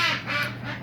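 Ducks quack in a rapid, close series of nasal calls, loud and continuous, heard outdoors in a garden.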